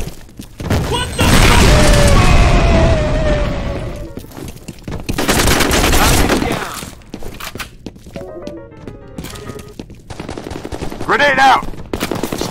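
A loud grenade blast in the shooter FEAR, a heavy booming burst that decays over a couple of seconds, followed by another explosion and scattered gunfire and thuds amid combat.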